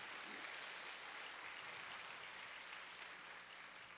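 A church congregation claps together in steady, dense applause that holds evenly throughout, soft and somewhat distant, with no voices over it.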